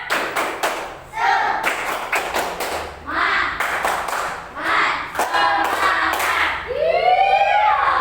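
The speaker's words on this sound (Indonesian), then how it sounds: "Tepuk semangat" A class of students performs the 'tepuk semangat' clapping routine, sharp clap bursts in a set rhythmic pattern alternating with voices chanting together between the claps.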